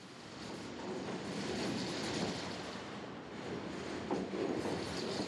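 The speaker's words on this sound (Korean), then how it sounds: "그들이 일본인들이 그 전철 소리를 가탕고통 그렇게 표현해요" A train runs along its rails in a steady, fairly quiet rumble that swells slightly at times, with only a hint of rhythmic clatter and no voices.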